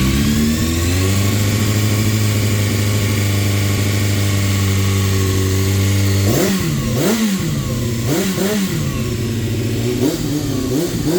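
A 2002 Honda CBR600 F4i engine with a brand-new automatic cam chain tensioner idles loud and close with a steady hum, then revs repeatedly in several sharp rising and falling blips.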